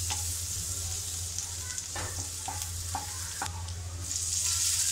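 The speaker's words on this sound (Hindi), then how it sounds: "मैंने यहाँ पे लहसुन लिया है, इसे मैंने अच्छी तरह से कट कर लिया है। इसे 1 मिनट तक इसे फ्राई कर लेते हैं अच्छी तरह से।" Chopped garlic fries in a pan, giving a continuous close sizzle with occasional soft scrapes and stirring knocks, growing slightly louder toward the end, and no voice.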